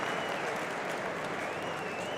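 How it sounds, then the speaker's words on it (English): Scattered applause ripples through the stands at a Championship football match between Swansea City and Sunderland, a steady dense patter under faint crowd murmur. "smattering of applause"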